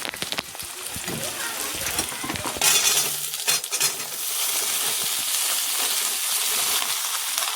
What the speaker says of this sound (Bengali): এবার আমি সবজিটা ঢেলে দিচ্ছি।